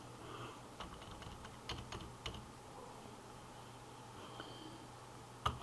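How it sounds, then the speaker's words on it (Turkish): Keys clack on a computer keyboard used to enter commands in a Mitsubishi M70 CNC control simulator: faint, irregular taps in short bursts, close and otherwise quiet. "klavyeyi de kullanabiliriz."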